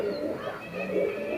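A Patiala pigeon gives a soft, close, low coo with a gentle rolling pulse and repeated hums over the short stretch, standing alone in a quiet space.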